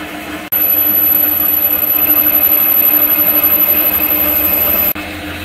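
A lathe facing off a homemade starter bushing for a Honda Fit starter makes a steady, loud machining whine with a high tonal ring, running continuously for about four and a half seconds before stopping abruptly.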